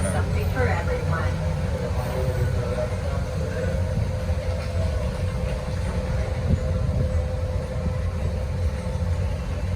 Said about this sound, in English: It's a nice little ride on the monorail.